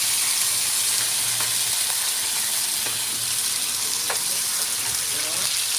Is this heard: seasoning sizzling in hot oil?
yes